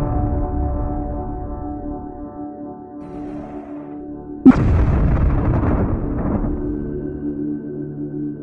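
Ship weapons fire in Homeworld Cataclysm: a low hum runs until a sudden sharp blast, followed by a rumbling burst of explosions that fades into a lower drone.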